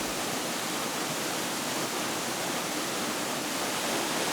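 Neidong Waterfall, a three-stage cascade, crashes steadily down a cliff face in a forested valley, a loud continuous broadband roar of falling water with no pauses or voices.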